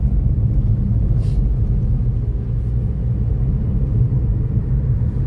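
A car climbs slowly up a steep ghat road at Malshej Ghat, its engine a steady low rumble heard from inside the vehicle, constant and unbroken with no talk.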